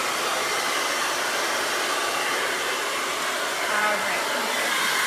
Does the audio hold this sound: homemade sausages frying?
no